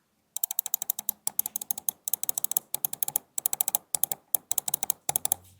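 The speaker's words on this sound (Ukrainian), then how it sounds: "Перемикачі основних клавіш це в нас KL GMX White Sword. Звучать вони приблизно ось так." Rapid bursts of sharp mechanical clicks from a HATOR Quasar 2 Pro Wireless mouse's main buttons with KL GMX White Sword switches, close up, in quick clustered series with brief pauses between them.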